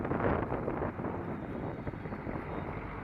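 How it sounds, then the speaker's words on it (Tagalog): Strong wind rushes past while riding a motorcycle on a daily trip from Manila to Valenzuela, a steady low roar of wind buffeting with a faint engine drone underneath, and no talk. "Medyo malakas ang hangin."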